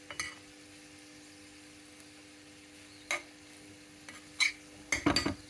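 A carrot fry is stirred in a pan. Mostly quiet stretches are broken by a few sharp scrapes and clinks of a spoon against metal, bunched toward the end.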